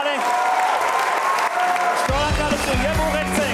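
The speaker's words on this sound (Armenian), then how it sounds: "Ծափարենք։" Audience applause fills a comedy show stage, steady dense clapping throughout, with a voice talking over it in the second half.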